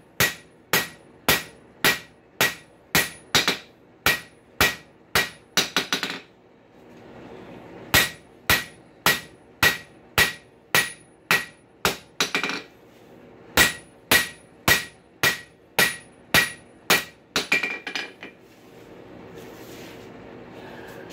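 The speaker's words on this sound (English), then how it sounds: "Start knocking some of the lumps down." Repeated heavy hammer blows knocking down lumps on a hot rail spike being forged into tongs, in quick, steady bursts of about a dozen strikes each, with short pauses between bursts; close and loud, no talking.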